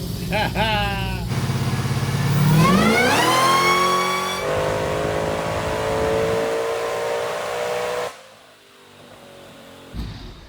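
A car engine revs hard and accelerates, its pitch climbing steeply through several gear changes before settling into a sustained high drone, then cutting off abruptly. Loud and close, with the engine note dominating throughout.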